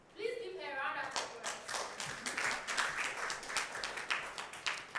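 An audience at a forum breaks into applause, a dense clapping roar that follows a brief voice and runs steadily for several seconds.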